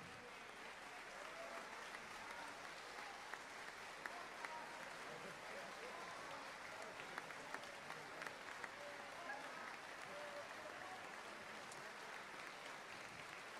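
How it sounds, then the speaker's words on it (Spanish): A concert crowd applauds after a big band jazz performance, a dense, continuous roar of clapping heard from a distance and sustained at an even level. "Fuerte el aplauso."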